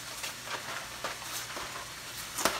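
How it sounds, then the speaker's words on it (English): Food browns in a frying pan with a steady soft sizzle, punctuated by periodic faint stirring scrapes and a sharper clink near the end, no voices. "So we're going to brown this off."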